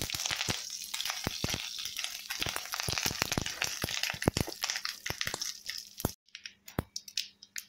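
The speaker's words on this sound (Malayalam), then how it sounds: "എടുത്തതായിട്ട് കറിവേപ്പില ഇട്ട് കൊടുക്കാം." Curry leaves dropped into hot oil with dried red chillies spit and crackle in a busy burst of sputtering pops, loud and close, then settle into sparser sizzling pops near the end.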